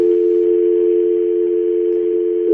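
A steady telephone dial tone hums from a handset taken off the hook, continuous and loud, with no voices.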